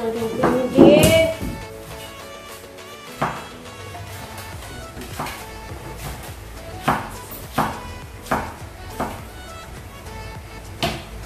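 A knife slicing bell pepper on a cutting board, giving a string of sharp, evenly spaced cuts that carry on through the clip, with a louder clatter at the start and kitchen noise beneath.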